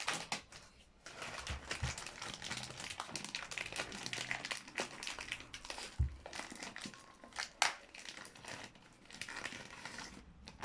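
Crinkly plastic packaging of a dog bone treat rustles and tears in quick bursts, close by and fairly quiet, with occasional sharper rips between stretches of crumpling.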